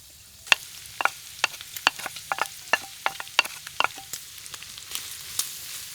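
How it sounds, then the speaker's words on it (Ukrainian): Onions frying with pork cracklings: a low sizzle under a dozen sharp, irregular scrapes and clacks of a utensil stirring the pan. "Продовжуємо смажити, поки цибуля не стане прозорою чи навіть трішки позолотиться."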